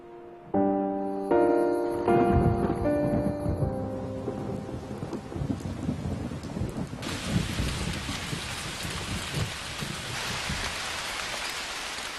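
September rainstorm: after a stretch of soft music, a dense, steady hiss of heavy rain takes over and continues loudly to the end.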